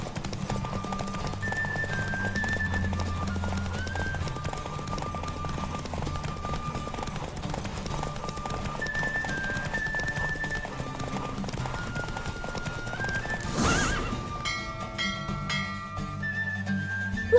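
A horse gallops in The Witcher 3 video game during a race, rapid rhythmic hoofbeats running steadily under game music, with a short burst near the end before the music changes.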